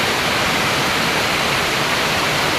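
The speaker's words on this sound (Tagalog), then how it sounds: "ganun din ang lakas ng ulan ngayon" Steady, dense broadband hiss of heavy rain pouring down by the sea, loud and continuous without any voices.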